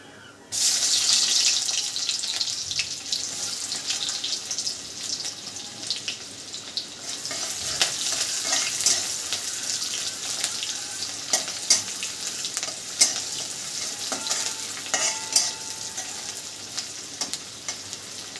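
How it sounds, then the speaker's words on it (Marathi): Cumin seeds and onion hit hot oil with a sudden loud sizzle, then settle into continuous spattering and crackling with scattered utensil clicks as they keep frying for a fenugreek-leaf dish. "आता तेल गरम झालं आहे आता टाकते थोडीशी जिरे आता टाकते कांदा"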